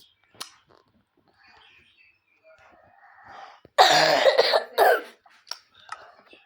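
A sick person coughs hard twice in quick succession, loud and close, with a few quieter throat sounds and faint background noise around it.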